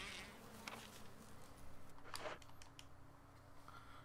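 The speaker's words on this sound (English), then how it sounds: "We're getting chased by bees." Bees buzz in Resident Evil Remastered, a faint, fluttering insect drone that swells and fades as the swarm chases, with soft game ambience beneath and no voices.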